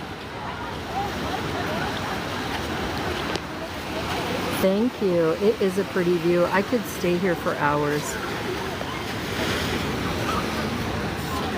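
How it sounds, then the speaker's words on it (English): Ocean waves crashing against rocks and cliffs as the tide comes in, a steady windy surf wash that stays under a person talking close by. "Oh my gosh, the water crashing over there looks amazing."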